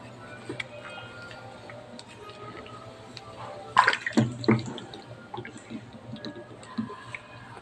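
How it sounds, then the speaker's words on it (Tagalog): Water is poured into a chicken drinker container, giving a short run of soft splashes and trickles mid-clip, close by, with light ticking drips over a low steady background hum. "Lagyan natin to ng tubig."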